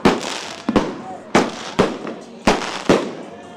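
New Year fireworks and firecrackers burst in a series of about seven sharp, loud explosions at uneven intervals, each followed by crackling decay.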